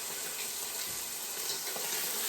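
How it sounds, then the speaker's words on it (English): Pork al pastor sizzles in a pan during a cooking class, a soft, steady frying hiss with faint crackle and no talking. "You can kind of tell when it's almost done because the sizzling will start to slow down in sound."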